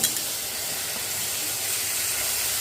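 Beans, onion and broccoli frying in a pan make a continuous loud hissing sizzle, with a sharp clatter of stirring at the start and no talking.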